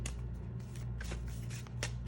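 Golden Tarot cards being shuffled by hand, a steady run of crisp riffling and slapping bursts that carries on close up with no talk.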